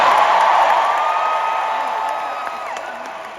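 A large crowd at the 2024 Disney D23 showcase roars and cheers continuously, a dense wash of voices and clapping that slowly fades a little.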